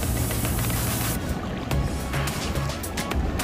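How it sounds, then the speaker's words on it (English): Big ocean waves breaking at Patar Beach, a steady loud roar of surf and wash that fills the whole stretch, with low rumbling swells and gusts of wind over the water. "Wow, ganda, laki ng waves."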